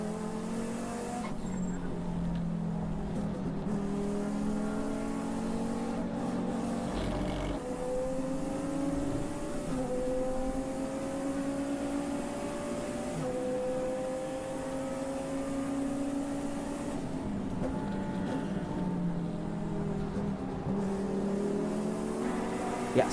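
Onboard engine of a GT endurance race car at Autodrom Most, a loud steady drone with rising and falling pitch sweeps through gear changes for over twenty seconds, no talk over it.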